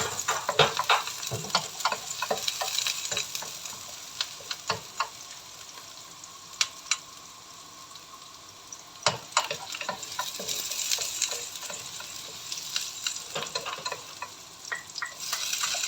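Garlic sautéing in oil in a pan for a string bean dish, with a continuous sizzle broken by frequent scraping and clinking stirring strokes, close and moderately loud, without speech.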